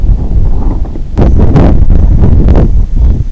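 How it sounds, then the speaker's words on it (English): Strong gusty wind battering the microphone, a heavy low roar with sharp bursts of buffeting that rise and drop repeatedly. "as you can hear, it's quite windy."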